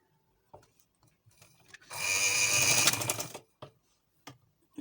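A sewing machine runs a fitting seam on a newborn baby frock in one quick burst of about a second and a half, framed by faint handling clicks.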